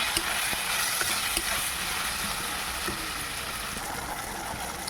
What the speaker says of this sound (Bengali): দেবো একটু হলুদ, লবণ, দিয়ে আমি এগুলো ভাজবো।